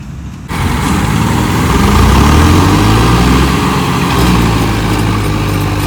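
A new John Deere 5210 tractor bogged down in mud roars at a steady, heavy low pitch after starting abruptly, the loud engine straining continuously at close range.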